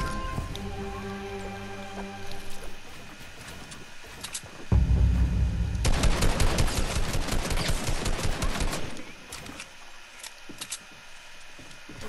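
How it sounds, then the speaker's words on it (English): Assault rifle fire in the Fortnite video game, a dense burst of rapid shots lasting a few seconds in the middle of the clip after quieter game sounds, loud and close. "I can't repair when you're shooting your AR at me"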